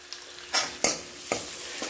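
Chopped onion fries in a pan with turmeric, red chili and coriander powder, a steady close sizzle broken by several scraping stirs of a spoon, with no speech.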